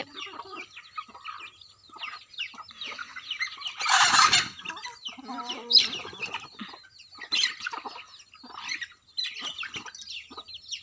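Several chickens cluck and squawk nearby in bursts as they fight, with one loud flurried squawk partway through and softer chirps around it.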